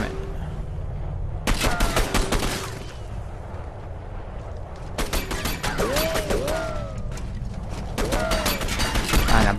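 Bursts of gunfire in the video game Condemned 2: Bloodshot, with loud clusters of rapid shots around the middle and near the end over a constant rumbling game backdrop.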